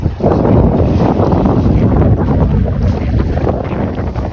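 Steady broadband rumble of boat motors and wind over open sea off Canimog Island, a continuous wash with no voices, distant vessels blending into the noise.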